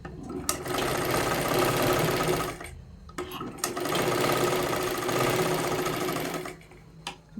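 An electric sewing machine runs a double line of stitching on a katori blouse in two long, steady whirring bursts, separated by a short pause and ending with a few clicks.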